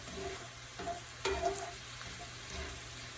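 Minced garlic and thyme are stirred in a frying pan for green bean casserole, a soft sizzle with a few light scrapes and one clearer clink of a utensil against the pan.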